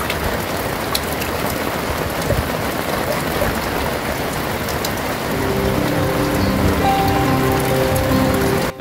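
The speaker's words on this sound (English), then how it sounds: "the heavens opened up during the night, and a heavy downpour ensued up until around midday." Heavy overnight downpour at the Queensland Gemfields, a dense unbroken roar of rain pounding on surfaces, with a faint tonal hum joining in the latter half.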